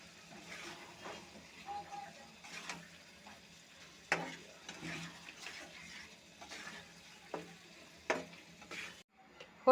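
Cucumber ghonto being stirred and fried in a pan after roasted cumin powder is added, with steady sizzling and repeated sharp clinks of a spoon against the pan.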